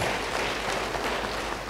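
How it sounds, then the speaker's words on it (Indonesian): Church congregation at an Indonesian-language service applauding, a brief dense burst of many hands clapping evenly throughout. "Yang percaya, beri tepuk tangan bagi dia"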